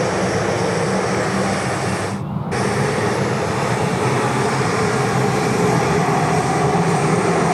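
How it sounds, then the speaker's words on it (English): Air New Zealand heavy jet from Auckland landing on runway 16 right at Sydney Airport in wet weather, a loud continuous engine roar and rumble held steady throughout, no talk. "the last heavy arrival of today's show about to join us here on runway 16 right. The New Zealand 103 coming in from Auckland today"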